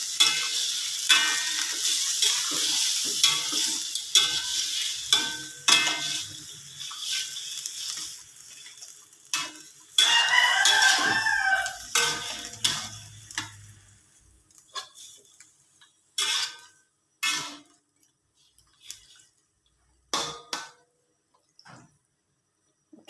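Chicken pieces for soy-sauce chicken with pineapple fry in a pan, a bright sizzle with repeated scraping and clinking of a spatula stirring, fading to sparse stirring knocks near the end.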